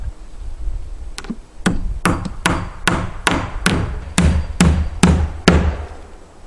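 Hammer blows driving nails into a board-and-batten exterior wall, about a dozen sharp, evenly paced strikes at close range, each ringing briefly with no talk.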